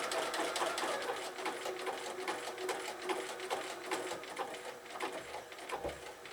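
A sewing machine stitches zig-zag applique on birthday bunting, running in a fast, even mechanical patter of needle strokes with brief slowdowns, close and alone.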